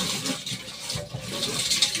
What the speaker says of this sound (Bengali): এখানে চালটা ধুয়ে নিই